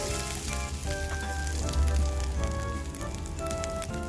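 Grated ginger fries in a hot pan with a steady, dense sizzle and crackle, close and loud throughout without any talk.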